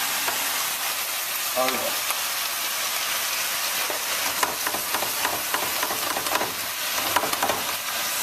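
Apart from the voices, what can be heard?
lamb searing in a pan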